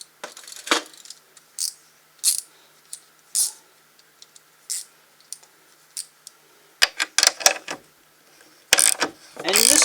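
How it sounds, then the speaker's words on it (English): A quarter-inch drive ratchet from a socket kit turns a socket on light-duty work, giving close, crisp clicks in irregular bursts, with a denser, louder run of ratcheting near the end. "we're using the ratchet out of this kit and the socket"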